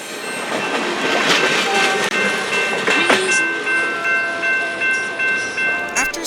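A CSX train rumbles past a crossing with rhythmic clickety-clack of wheels over rail joints, while a steady tonal whine or horn carries through most of the passage.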